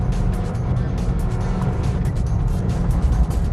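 A 2008 Mitsubishi Lancer GTS driven through a slalom at about 65 mph in third gear, with a steady, close engine drone and road roar throughout and no break.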